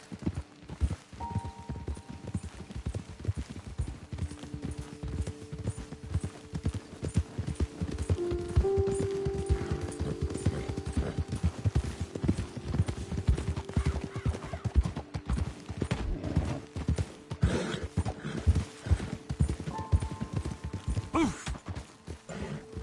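Steady rapid hoofbeats of horses galloping for a long stretch in the video game Red Dead Redemption 2, with an occasional whinny mixed into the clatter.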